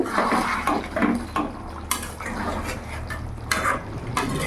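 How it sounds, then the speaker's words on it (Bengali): Rui fish curry (kalia) gently stirred in a pan, a close, continuous wet bubbling and simmering bed with soft utensil scrapes and clinks over it and no voices. "হালকা করে নাড়িয়ে নেব"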